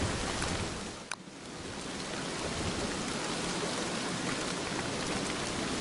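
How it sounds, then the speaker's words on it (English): Dense, steady rainfall in the Don't Starve game world pours without a break, a wide wash of droplets with one short tick near the start and no talking. "I don't know if we should wait out the rain or not."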